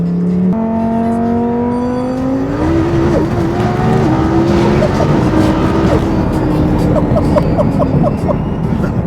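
A twin-turbo Audi R8 with its bumper removed, being tuned, revs and accelerates hard, its loud engine note rising through gears with turbo whistle and popping, close and continuous throughout.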